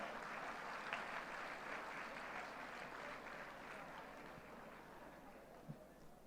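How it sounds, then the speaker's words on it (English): An audience in a school hall applauds students for their hard work, steady even clapping from a large crowd that is fairly distant and soft, continuing without pause. "For each of the student who works hard, let us give a good clap."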